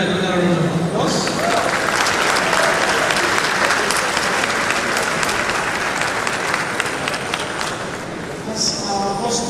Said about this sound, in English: Shall we give the lecturer another round of applause?